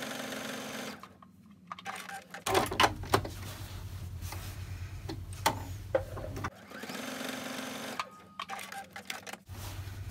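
A sewing machine stitches a quilted log cabin table topper in two long, steady runs of whirring at moderate loudness, split by short pauses with faint clicks and handling noises.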